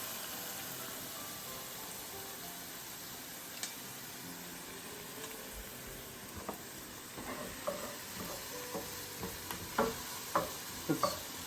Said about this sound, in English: I just want these to, saute up a little so the onion gets a little cooked